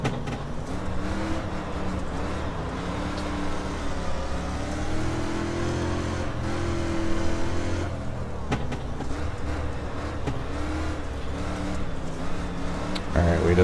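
Simulated dirt street stock race car in iRacing at Lanier National Speedway, its engine droning and shifting pitch continuously as it revs through the laps, loud and close throughout with brief dips off throttle.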